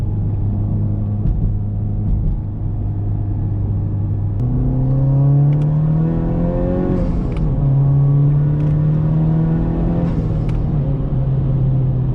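A Honda Civic Type R engine with a high-volume intake hums steadily, then rises and falls in pitch as it revs in a parking lot, with a limited-slip differential whine and occasional clicks, no voices.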